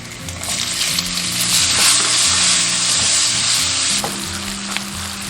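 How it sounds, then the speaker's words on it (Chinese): Sliced cured pork stir-fries in a pan with shallots and shrimp as the base of a tofu casserole, giving a loud, steady, close sizzle with stirring throughout and a brief clatter near the end. "腊肉炒香过后，下入红葱头跟虾仁。"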